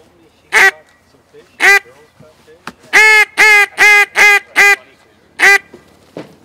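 A black walnut double reed duck call, the Jensen Classic, blown in raspy hen quacks: two single quacks, then a fast run of five harsh calls and one more, loud and close with no talk over them.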